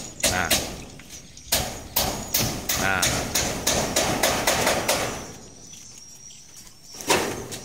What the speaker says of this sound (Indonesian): proses memaku atap spandek ini jangan berlebihan